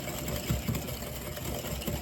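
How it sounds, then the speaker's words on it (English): Eggs and sugar being whisked vigorously in a very large bowl, a fast continuous rattling scrape close to the microphone with no talk. "let's get our eggs and our sugar. You want to whisk,"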